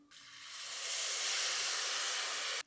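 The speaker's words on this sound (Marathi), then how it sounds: "त्याचबरोबर घालूया दूध" Milk poured into a hot pan of roasted coconut and rice for rice kheer, a steady hiss of steam and sizzle that swells quickly, holds loud and even for over two seconds, then stops abruptly.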